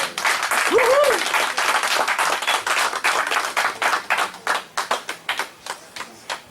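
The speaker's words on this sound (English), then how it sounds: "Give God a big round of applause again" A church congregation claps in a dense burst of applause that thins into slower, separate claps toward the end, with a voice rising briefly above it early on.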